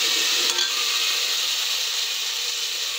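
Chillies, their seeds and curry leaves fry in hot oil with a steady, close hiss and sizzle, broad and even for a few seconds, with a brief stir near the start and no talking.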